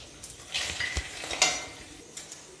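Whole spices fry in hot mustard oil in a kadai: bay leaves, dried red chillies, black cardamom, cinnamon and panch phoron. A close, hissing sizzle is broken by light metal stirring clinks.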